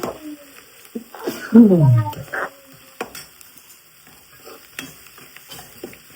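Hot oil tempering with asafoetida and three chillies crackles and sizzles in a pan, with a loud burst of spluttering near the start followed by quieter intermittent crackles.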